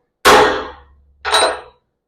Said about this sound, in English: Now you line your bigger one up and you go ahead and smack it.